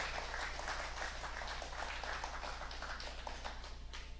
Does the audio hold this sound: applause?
yes